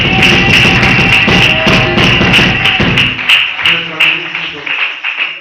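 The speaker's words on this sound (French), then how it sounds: "Let's clap for Jesus" A church congregation applauds together, loud dense clapping filling most of the stretch, mixed with voices and a sustained tone, before thinning into scattered claps near the end.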